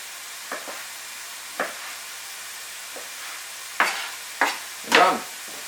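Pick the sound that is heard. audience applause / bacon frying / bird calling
bacon frying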